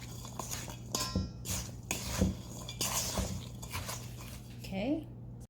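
A utensil stirs flour, beaten egg and cinnamon together in a bowl, making irregular scraping and clinking strokes close up while a voice talks over the mixing.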